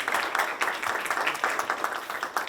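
An audience at a community meeting claps in a loud, dense round of applause, continuous rapid hand claps filling the whole stretch without pause.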